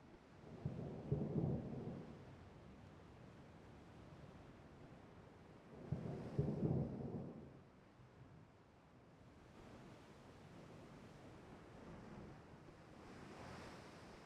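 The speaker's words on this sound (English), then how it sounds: "I heard the thunder as we were loading in." Thunder in the naval warfare game Ultimate Admiral Dreadnoughts, set during stormy weather at sea: two deep rumbling rolls, several seconds apart, rise over a continuous wash of wind and surf.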